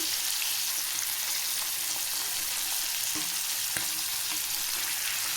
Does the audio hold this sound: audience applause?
no